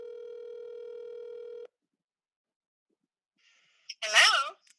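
A telephone line tone sounds steadily for over a second and then cuts off, followed by silence before a voice briefly answers.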